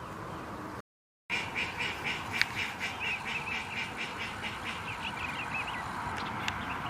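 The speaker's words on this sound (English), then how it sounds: "Maybe it's the Drake trying to call his ladies back." Repeated raspy quacks from a drake duck in a steady series, moderately distant, over constant outdoor background noise.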